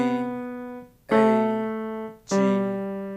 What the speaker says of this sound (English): play the 4 white keys to the left one at a time